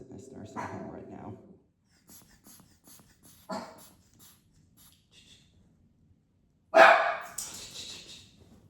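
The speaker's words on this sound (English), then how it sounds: "There's some dogs in this nursing home right now." Dogs bark inside a nursing home: a few short, separated barks, the loudest one near the end, with quiet room sounds between them.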